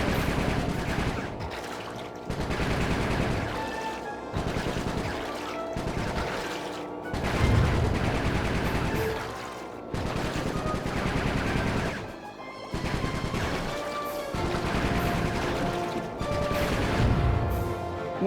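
Rapid, dense gunfire in Sly 3, the game, with bursts of shots repeating steadily over a continuous loud action backdrop, no speech.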